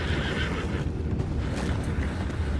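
A horse in the Red Dead Redemption 2 video game lets out a loud, close neigh and whinny over a dense, steady bed of game ambience, with hooves shuffling and no voices.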